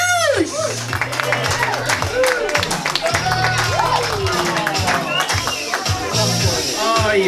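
Comedy club audience at a stand-up show clapping and cheering, a dense sustained burst of applause with crowd noise throughout, loud and close, with voices mixed into the din.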